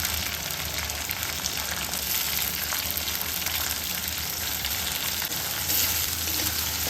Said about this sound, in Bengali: পেঁয়াজ কুচিটা একটু লাল লাল করে ভাজতে হবে